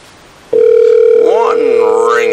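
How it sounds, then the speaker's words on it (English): A steady, continuous telephone ringback tone heard while placing a call, starting abruptly and holding at an even level, with a voice speaking over its later part. "let's see how many ringy-dingies till she answers"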